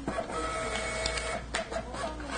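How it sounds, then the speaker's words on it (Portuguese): A fiscal printer (ECF) runs off an X reading report, giving a steady mechanical printing whir with small clicks of paper feed throughout, fairly loud and close with no talking. "a impressora já tem que lançar o relatório de leitura X para a gente impressa"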